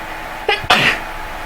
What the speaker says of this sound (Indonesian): Maaf, ibu bersin.